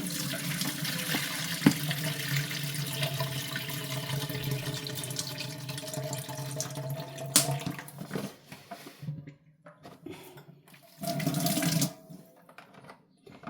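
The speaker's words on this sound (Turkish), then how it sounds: "Tekrar üzerine su dolduracağım" Water pours from a tap in a steady, close rush over cracked green olives in a plastic drum for about eight seconds, stops, then a shorter gush follows; no one speaks.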